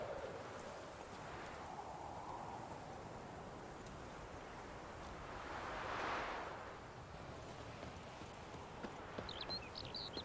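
Roach the horse gallops in The Witcher 3, steady rhythmic hoofbeats thudding beneath wind and rushing ambience at a moderate distance, continuous for several seconds.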